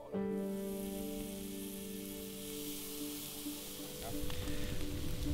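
Nyala fillets sizzle over an outdoor campfire, a steady frying crackle under a sustained tonal hum. The sizzle grows louder and busier toward the end.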